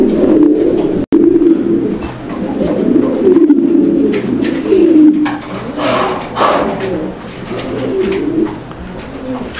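A breeding pair of Afsan grizzle pigeons cooing close by, repeated low throaty coos in a rolling rhythm with a few sharper bird calls mixed in, loud and clear.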